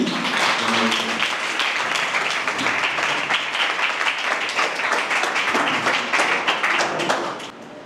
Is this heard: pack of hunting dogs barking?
no